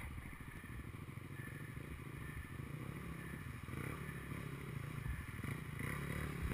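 An enduro motorcycle idles and chugs in first gear as it climbs over rocks, a steady low engine drone holding throughout with faint clattering and scraping from the terrain.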